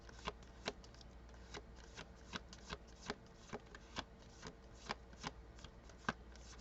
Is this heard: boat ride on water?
no